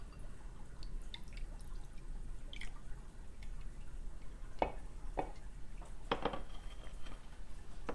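Moon water poured out of a container during a full moon ritual, heard as a few separate splashing drips and spatters against a quiet background.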